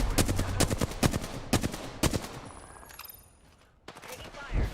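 Sharp, closely spaced video game gunshots ring out in a dense volley. They fade to near silence, then a final shot cracks out.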